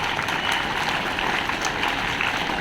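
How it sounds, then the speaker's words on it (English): Applause from a school assembly honouring top-scoring students, a short, steady burst of many hands clapping at moderate distance. "a very big round of applause to them."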